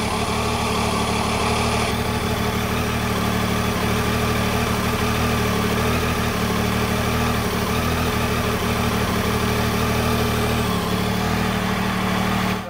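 A 2019 Triumph Tiger 800 engine idles steadily and close during throttle body synchronization, a continuous even drone with no speech, its tone shifting slightly partway through as the throttle bodies are adjusted.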